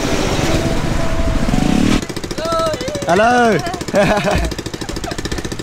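A tuk-tuk engine in Phnom Penh, Cambodia rattles close by in a fast, buzzing putter, with a tonal sweep and a person saying a short greeting partway through.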